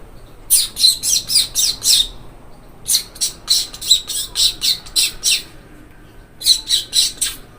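A voice imitates the harsh squawking call of a frightened parrot fleeing, in rapid repeated bursts, three groups of several shrill squawks separated by brief pauses.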